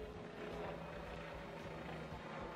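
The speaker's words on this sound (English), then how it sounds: "let me let this helicopter go by." A helicopter passing overhead outdoors, its steady broadband rotor and engine rumble with a low throbbing drone filling the whole stretch at even, moderately loud level, no voices over it.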